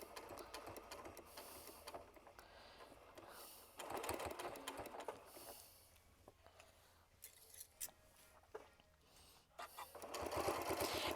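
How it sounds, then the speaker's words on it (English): A sewing machine stitching quilt sampler squares together, running in bursts of rapid, close mechanical whirring with short pauses, a brief backstitch near the end, and soft handling noises between runs. "we're going to just back stitch right there just to make sure we've caught all the edges"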